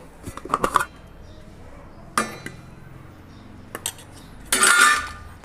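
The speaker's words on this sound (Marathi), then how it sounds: "परत चांगलं मिक्स करून घ्यायचं आहे" A spoon works a jaggery puran poli filling with ghee in a metal pot, producing a quick cluster of clinks, a few scattered scrapes and knocks, then a louder grinding scrape near the end, close by.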